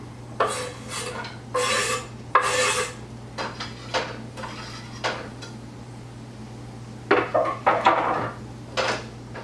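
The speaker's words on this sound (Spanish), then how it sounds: "Vamos a empezar a guisar nuestra cebolla." Onion and garlic get sautéed in a Teflon pan, stirred with a plastic spatula in short bursts of scraping and clinking, separated by quieter pauses over a faint steady hum.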